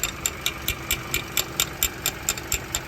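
A Kia or Hyundai car engine idles steadily while sharp, regular knocks on the engine tap out about twice per second, close and crisp over the low hum.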